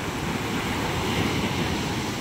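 Large sea waves roll and wash continuously around a fishing area, a dense, steady roar of surf and wind noise with no pauses and no voices.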